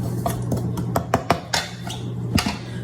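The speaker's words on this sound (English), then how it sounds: "And we're going to stir that together really well." Utensil stirring flour, baking soda and salt together in a bowl, giving a run of close, sharp clinks and scrapes in an irregular rhythm over a steady low hum.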